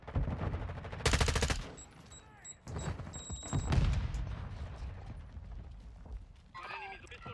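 Gunfire in Call of Duty Modern Warfare 2 with an M4 rifle, rapid automatic bursts and heavy booms amid game effects and mechanical clatter, with voices heard over the action.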